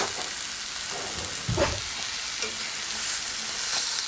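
Meat searing in a hot pan, a steady loud sizzle and crackle throughout with a brief thump as it shifts partway through, close and with no talking.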